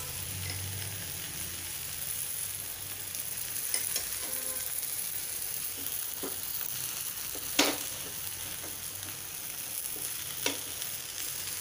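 A rava uttapam fries on a pan as a little oil is added, giving a soft, even sizzle throughout with a few faint clinks and taps, no voices.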